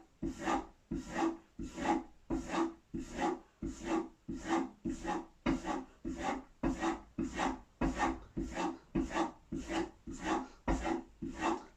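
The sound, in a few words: chisel bevel rubbed in strokes on a sharpening surface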